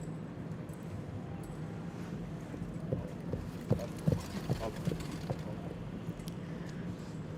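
Horse hooves clip-clopping at a para driving dressage competition, a faint, steady rhythm over outdoor arena ambience, growing slightly more distinct midway.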